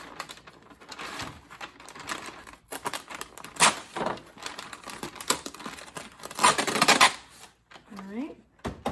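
Freezer paper being torn for lining a soap mold, with crinkling and short ripping bursts between stretches of talking, close by and moderately loud.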